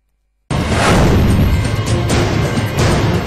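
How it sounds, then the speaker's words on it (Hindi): Artillery shells from a cross-border ceasefire violation in Jammu and Kashmir hit near the position, a loud sudden blast followed by sustained roaring, crackling rumble with several sharper bursts. "ये सामने अभी अभी जो है वो धमाके हुए हैं। 2 शेल जो है यहाँ पे गिरे हैं।"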